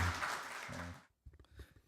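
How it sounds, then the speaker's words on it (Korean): An audience at a Korean association's founding ceremony and seminar applauds as a National Assembly deputy speaker is welcomed to the stage, a dense burst of clapping that ends abruptly and gives way to a few faint sounds. "우리 큰 박수로 단상으로 모시도록 하겠습니다."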